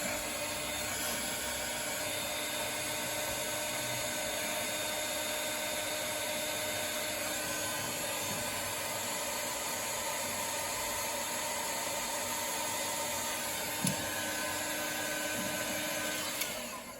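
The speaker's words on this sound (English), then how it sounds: "So now I'll hit this with the heat gun and shrink that down" A heat gun blows continuously to shrink heat-shrink tubing on automotive wiring, a steady loud whooshing roar with a motor whine that holds for the whole stretch before briefly tapering at the end.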